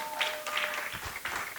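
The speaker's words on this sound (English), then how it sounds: "I believe Matthew Ozigbo deserves a better round of applause." An audience at an event for young entrepreneurs claps in a moderate, scattered round of applause, with clustered hand claps that rise and fall over a second and a half.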